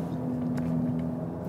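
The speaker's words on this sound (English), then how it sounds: "Nice sound from the performance exhaust." A 2021 Cupra Ateca with 300 hp and a performance exhaust gives a steady, low droning hum while driving, even and continuous throughout the short stretch.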